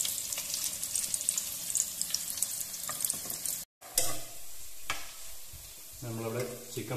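Chicken pieces for Kerala-style chicken pollichathu frying and being stirred in a pan, a steady close sizzle with scraping stirs, briefly cut off midway before resuming.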